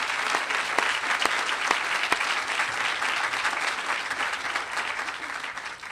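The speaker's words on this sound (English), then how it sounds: "a heartfelt thank you and round of applause for all of" Steady, dense clapping from a large audience, sustained throughout with a few sharper individual claps standing out.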